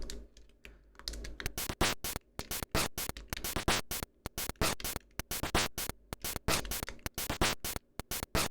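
Ghost snare hits on an LSDj Game Boy noise channel come as rapid, dense bursts of gritty, crackling noise in a fast, irregular rhythm, clear and close with no voices.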